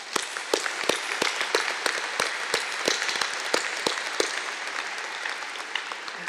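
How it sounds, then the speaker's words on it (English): A room full of people claps through a round of applause for program sponsors and supporters at a school event, with steady dense clapping and sharp individual claps standing out, fairly distant and even throughout. "let's give them a big round of applause."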